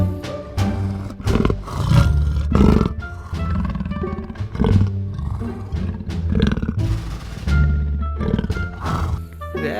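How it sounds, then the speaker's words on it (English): A lion roars loudly in repeated deep bursts over a busy, dense backdrop of other sounds, with no talk. "Very beautiful lion."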